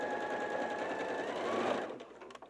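A sewing machine stitches a straight seam in a steady, fast, continuous whir for about two seconds, then slows and stops, leaving a few faint clicks and handling sounds.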